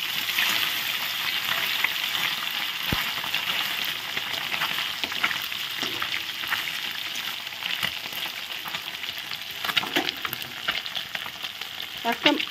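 Small local boroli river fish fry in a pan of oil, turned to cook the second side, producing a continuous close crackling sizzle with scattered pops and utensil taps.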